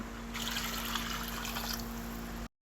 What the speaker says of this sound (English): We're going to add more water because it's a little bit of caldo.